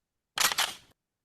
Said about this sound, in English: "Good morning," said Big Nose George Parrot as he cocked the gun.